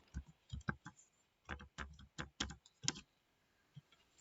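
Someone types an exam name into school management software on a computer keyboard, the close, crisp keystrokes coming in short irregular bursts before slowing to a few isolated taps, with no voices.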